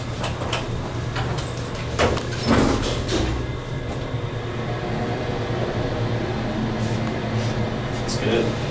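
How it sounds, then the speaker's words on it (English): The bottom-drive traction motor of a vintage Otis service elevator at Heroy Science Hall, SMU, Dallas, runs with a steady low hum and a few clunks. People talk over the machinery. "Let's listen to the motor going on because this is also bottom drive."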